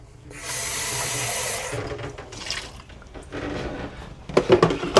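Water runs steadily into a coffee machine's drip tank as it is rinsed, then stops, followed by softer splashing and a few sharp clinks and knocks of the tank being handled.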